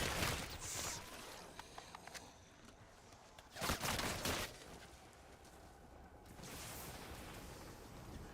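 Fully automatic shotgun with a drum magazine firing in a video game, heavy blasts in bursts near the start and again around the middle, with quieter rumbling and clatter between them.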